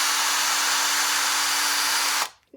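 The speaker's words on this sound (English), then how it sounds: "I'm going to go forwards and pull the rivet" A Yuhtech riveter runs with a steady, loud whirring drone as it pulls a rivet in one stroke, then cuts off abruptly, leaving a short quiet tail.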